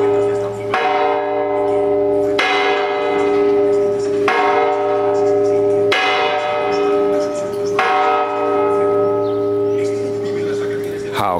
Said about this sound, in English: the guy on the right and the girl are banging the bell